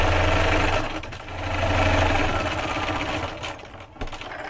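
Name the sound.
sewing machine stitching quilt fabric strips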